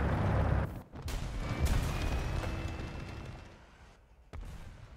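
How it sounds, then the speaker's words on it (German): Gunfire in a War Thunder or Tarkov match comes as dense, loud, sustained shooting that is cut off by a couple of sudden breaks before it resumes, with no voices over it. "Ich dachte, die Schüsse kamen von hinten."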